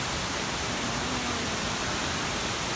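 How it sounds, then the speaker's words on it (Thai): Waterfall at Tat Ton in Chaiyaphum, Thailand, a steady, dense roar of falling water that fills the whole clip without pause, with no voices over it. "เสียงน้ำตกดังไปหรือเปล่า"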